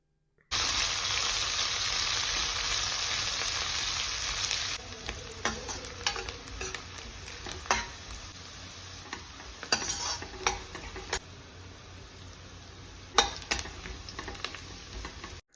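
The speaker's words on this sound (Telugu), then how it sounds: "ఇప్పుడు కట్ చేసుకున్న ఉల్లిపాయ ముక్కలు, పచ్చిమిర్చి ముక్కలు వేసుకొని కలర్ చేంజ్ అయ్యేంత వరకు ఫ్రై చేసుకోవాలి" Chopped onions and green chillies fry in hot oil for a village-style drumstick egg curry, a loud continuous sizzle that drops after a few seconds into quieter crackling broken by stirring scrapes.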